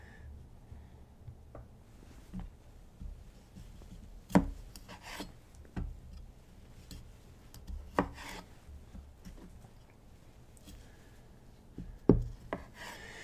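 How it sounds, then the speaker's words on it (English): Tomatoes chopped with a knife on a board, giving a series of irregular sharp knocks and soft slicing scrapes, close by and spaced a second or two apart over quiet background. "just gonna cut up a few more tomatoes here"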